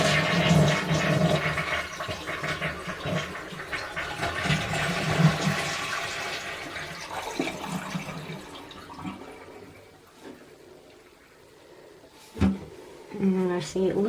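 A household toilet flushes with a loud rushing surge that tapers into the hiss and trickle of the tank refilling, with a person talking over it and a clunk near the end.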